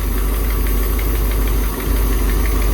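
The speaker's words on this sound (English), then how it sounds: "she idles like a top," A Winnebago motorhome's Dodge/Chrysler engine idles close up, a loud, steady, even rumble with a faint rhythmic knock and no voices.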